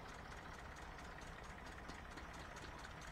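A tractor engine in Farming Simulator 15 idles steadily with a low, even rumble and faint knocking throughout, close and constant, with no one talking.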